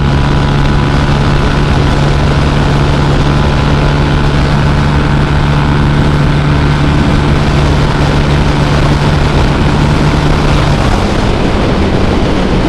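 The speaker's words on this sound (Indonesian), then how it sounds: "akselerasi ke 100 nya lumayan cepet lah buat motor matic ya." Automatic scooter fitted with a 63mm BRT engine under hard acceleration, a loud, constant droning engine note with a steady hum and heavy wind roar, sustained without letup and no voices.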